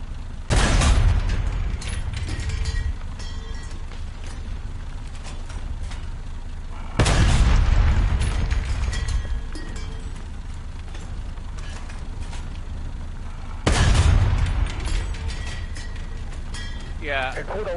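Tank cannon fire in a video game: three heavy booming shots spaced several seconds apart, each followed by rumbling explosion decay and mechanical clatter, with someone talking intermittently between them.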